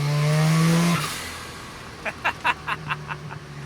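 Tuned turbocharged Mazda RX-7 FC engine under way, a loud steady drone for about a second that suddenly drops to a lighter hum, followed by a run of short, sharp bursts.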